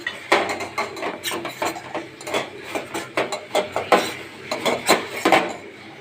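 A metal spoon stirs Andhra-style burgula talimpu in a pot, with repeated sharp clanks and scrapes against the pot in an irregular, steady rhythm, close and clear with no talking.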